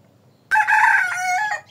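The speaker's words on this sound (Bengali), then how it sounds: "ওই দেখো মোরগটা ডেকে উঠলো।" A rooster lets out one loud, close cock-a-doodle-doo crow lasting over a second after a quiet moment.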